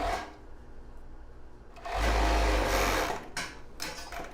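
A sewing machine stitches the side seam of a plus-size bra, a steady whirring run that swells louder midway, then slows into short bursts, close and alone without talk.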